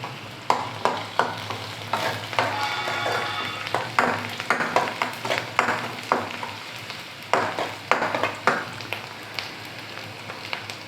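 Onions, garlic and ginger fry in a pan for Rayalaseema-style pasta, a steady sizzle broken by frequent scraping stirs of a spoon against the pan, fairly close with no talk.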